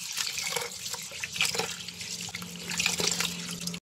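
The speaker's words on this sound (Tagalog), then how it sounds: "yung malagkit natin ay hugasan natin" Glutinous rice is washed in water, making a close, continuous splashing and swishing that cuts off abruptly.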